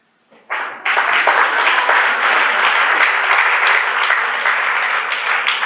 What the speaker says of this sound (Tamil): புரிஞ்சிருச்சுன்னா கைத்தட்டல் வந்துடும்